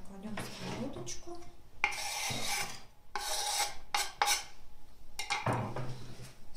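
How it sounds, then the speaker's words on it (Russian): A frying pan is set down on a stove while cooking fresh-cabbage shchi soup, giving several close, irregular scrapes and metallic clatters of cookware. "Так, кладем сковородочку."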